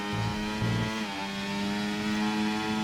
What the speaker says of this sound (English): Runs it in 3rd gear. That'll be high revs.